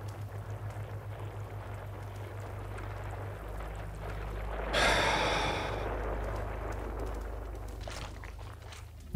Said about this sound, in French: On les entend ronfler.